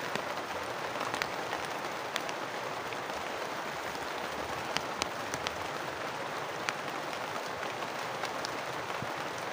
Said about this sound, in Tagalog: Putik, umuulan na.